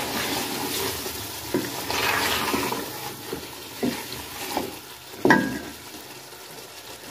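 Cream is stirred into a simmering pot of makhani chicken handi. A spoon scrapes in a few distinct strokes over a soft, continuous sizzle.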